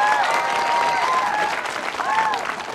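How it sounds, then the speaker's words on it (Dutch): Studio audience applause on a Frisian television show as a guest arrives on a giant motorbike, steady crowd clapping with voices calling and whooping over it. "Applaus."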